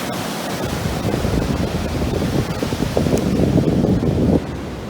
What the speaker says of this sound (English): And the waves are coming up.